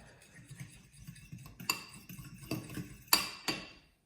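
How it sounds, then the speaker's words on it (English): A spoon stirs apple-mint raita in a bowl, giving a few soft scrapes and several sharp clinks against the rim, close by and fairly quiet. "And mix that well"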